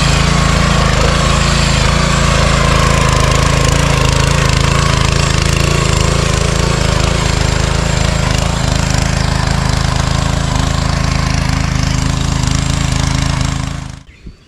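A power tiller rotavator engine, kick-started after choking, runs at a steady, loud, droning chug close by, then cuts off abruptly at the very end.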